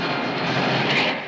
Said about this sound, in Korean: 수직으로 올라가고 또 수직으로 내려올 수 있는 새로운 제트 전투기가